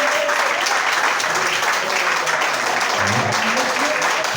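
A church congregation applauds in praise during a worship service, giving loud, sustained clapping through the whole stretch with faint voices mixed underneath.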